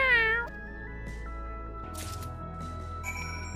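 Cat meowing in Final Fantasy XIV: Dawntrail, a rising tonal meow at the start followed by softer, drawn-out cat cries over steady game music, with no talk.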